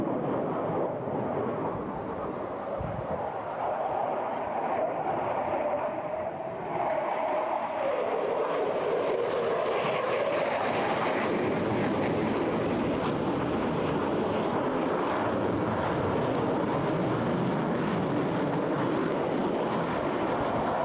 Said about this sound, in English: Building up the speed now on the jet, coming back again for another 600-mile pass.